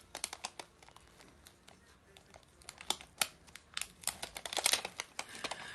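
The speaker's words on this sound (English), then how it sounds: "So I'll just open my tape." A roll of tape for resin pendant crafting is unwrapped and handled up close, giving sharp crinkles, taps and clicks in an irregular stream that grows busier toward the end, with no voices.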